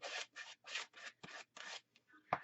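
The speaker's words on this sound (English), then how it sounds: "you can just scrape it back a little bit and it'll work just fine" Paint layers are scraped back from a Bible page in about seven short, quiet rasping strokes in a steady rhythm, each separated by a brief silence.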